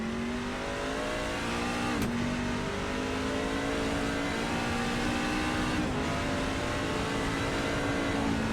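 A race car engine revs steadily at high pitch, close and loud, through a racing game lap at Sonoma, with brief throttle blips as gears change.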